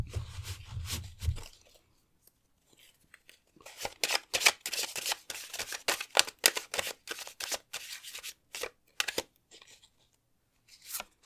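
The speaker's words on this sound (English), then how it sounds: "as we shuffled your cards around" Tarot cards being shuffled by hand, a close run of crisp riffling and sliding bursts in quick irregular rhythm, preceded by a low rumble and short pauses.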